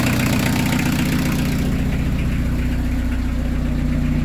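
Peugeot 205 TD diesel engine idling steadily with its exhaust note, a continuous loud low rumble and diesel knock throughout, no voices.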